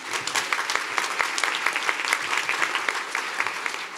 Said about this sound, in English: Please give Emily a big round of applause.